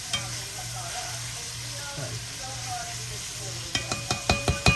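Vegetables stir-frying in a big wok for fried rice give a steady close sizzle, with a run of sharp scraping clatters from stirring near the end.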